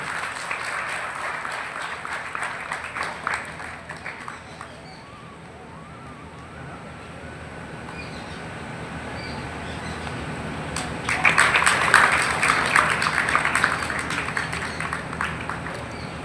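Audience applause at a journalists' award ceremony in Bhind, with a dense burst of clapping over the first few seconds, a quieter lull, then a second strong round of applause from about eleven seconds on.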